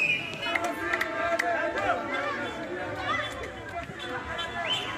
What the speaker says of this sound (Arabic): نترككم مع بعض أجواء احتفال الجماهير الجزائرية